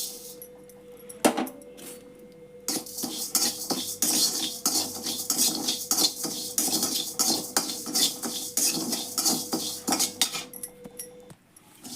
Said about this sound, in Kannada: ಈಗ ಅಕ್ಕಿ ಹುರ್ಕೋತೇನೆ